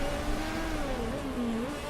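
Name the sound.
race car engine revving in Motorsport Manager video game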